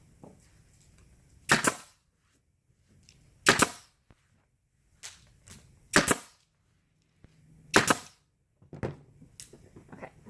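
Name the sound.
nail gun firing nails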